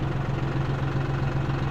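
A 2017 tractor engine idles steadily with an even low rumble and a constant mechanical throb, close and continuous, with no talking.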